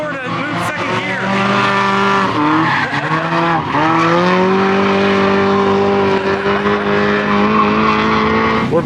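Mazda Miata drifting, engine droning loud and steady with sustained tire squeal throughout, close and continuous with no pauses.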